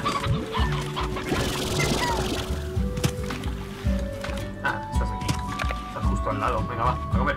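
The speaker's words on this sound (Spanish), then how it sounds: "Estas gallinas." Chickens in the video game Slime Rancher cluck in bursts as the player moves among them, heard under someone talking over game music and effects.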